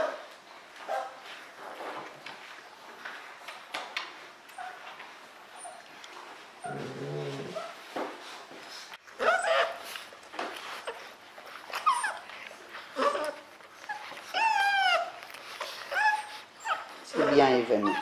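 Several 38-day-old puppies whimper and yip in short high bursts as a mother dog nurses them again after avoiding mastitis, the cries scattered close by over a steady murmur of nearby talk.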